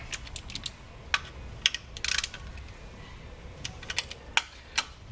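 A hand ratchet clicks in short bursts while tightening the valve cover bolts on a 1997 Land Rover Defender 90, the sharp ticks close and fairly quiet against a low background hum.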